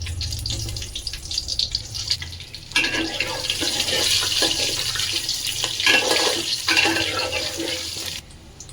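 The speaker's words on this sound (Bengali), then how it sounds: "এবারে আমি দিচ্ছি হাঁড়িতে আলু।" Potatoes frying in ghee and mustard oil in a pot, a broad sizzling hiss that swells after a quieter start, holds steady, then cuts off abruptly.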